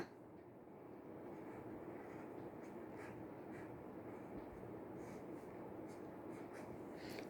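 Handwriting during a children's Hindi lesson on vowel signs, heard as a soft, continuous scratchy rustle under steady background hiss, with no voices.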